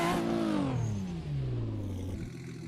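A Toyota Supra MK4 engine revs hard in the Assetto Corsa racing game, a loud, steady roar whose pitch sweeps gradually downward as it winds off over a few seconds, heard alone with no talking.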